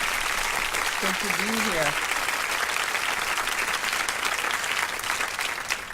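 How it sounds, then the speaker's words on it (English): An audience welcomes a guest, a state senator on a radio show, with continuous applause at an even, fairly loud level for about six seconds, while someone briefly speaks over it near the start. "give her an official round of applause"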